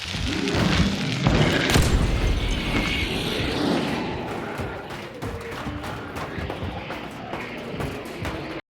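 A loud booming explosion in the video game Hunt: Showdown bursts out early, followed by rumbling debris and scattered crackling impacts that gradually settle into a lower, busy background.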